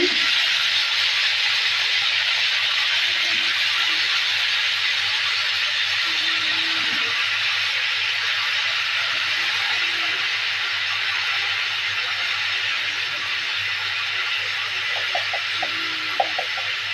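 Vegetables, including new potatoes, sizzle in a hot pan with a steady, even hiss that holds for the whole stretch, with faint clinks and stirring near the end.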